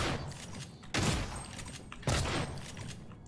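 Gunfire in the sci-fi shooter Prey: two heavy, booming shots land about a second apart, each with a sharp thumping attack and a lingering rumbling tail, loud and close, with no talking over them.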